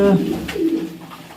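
Pigeons coo close by near their eggs, a low rolling coo at the start followed by softer cooing, with no talk over it.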